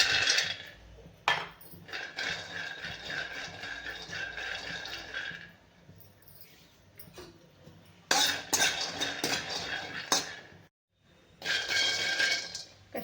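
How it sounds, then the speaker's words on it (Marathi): Peanuts dry-roasting in a hot kadai over a gas flame, for a stuffed brinjal with green chilli dish, give a dry clattering rattle in long bursts, broken by brief pauses as the pan is stirred and shaken. "सर्वात आधी आपण शेंगदाणे भाजून घेणार आहे"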